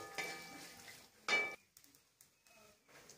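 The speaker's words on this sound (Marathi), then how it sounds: "1 चमचा तुपात हे ड्रायफ्रुट्स भाजून घ्यायचे आहेत" Dry fruits roasting in ghee in a pan as they are stirred: quiet sizzling with a few spoon scrapes and light clinks against the metal, close by and intermittent.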